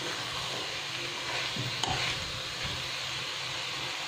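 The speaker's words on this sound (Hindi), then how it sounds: "अच्छे से हमें मिला लेना है," French beans with sesame seeds stirred in a hot pan for sabji, a steady sizzling hiss with soft scraping strokes throughout and one brief clunk near the middle, close and moderately loud, no voices.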